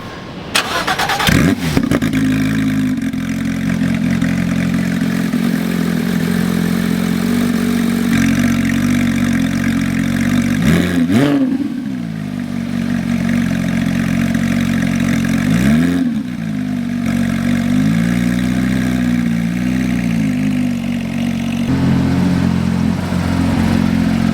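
A 2019 Porsche 911 GT3 RS fitted with a new titanium exhaust drives along. Its loud engine note runs steadily with several rises and falls in pitch as it revs through gears, and there is no talk.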